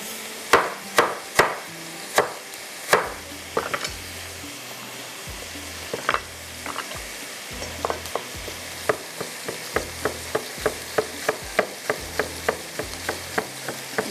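Minced meat with chopped ginger fries in a pan over steady sizzling, while a spatula or spoon strikes and scrapes the pan in a fairly regular run of sharp knocks, close and loud, with no talk.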